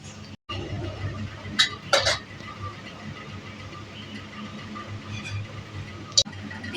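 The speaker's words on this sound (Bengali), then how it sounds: "আমি একটা বাটিতে বেড়ে নিচ্ছি।" Khichdi made with broken wheat is served into a bowl over a quiet kitchen background, with a few sharp clinks of utensil against dish, two close together and one more a few seconds later.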